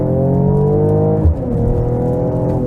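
A Mercedes-AMG GLE 53 with its exhaust set to powerful accelerates hard from 50 km/h, its loud engine note climbing steadily before a brief gearshift break, then pulling on again.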